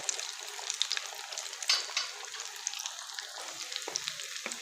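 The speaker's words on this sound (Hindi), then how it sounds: "तो ये सीख कबाब हमने इसमें डाल दिया। अब इसको हमने हल्की आंच पे अच्छा सा फ्राई कर लेना है।" Seekh kebabs made with potato fry gently in oil over low heat, a steady close sizzle with scattered crackles and small pops and no voices.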